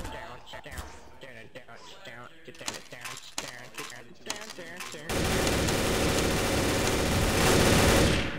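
Gunfire crackles in the Garry's Mod video game, starting with scattered shots and bursts mixed with talk, then turning into a loud, sustained roar of rapid fire over the last few seconds.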